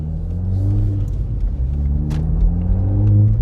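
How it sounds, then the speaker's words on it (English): A SEAT Leon engine warming up idles with a low rumble and rises in pitch as it revs a few times, loud and close. "And the car is warming up"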